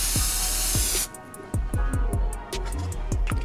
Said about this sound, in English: we're gonna spray this down with some canola